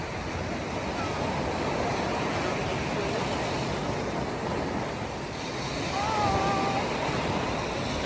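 Open ocean waves wash onto a beach at Disney's Lookout Cay, a continuous broad rush of surf with a faint voice or two in the distance.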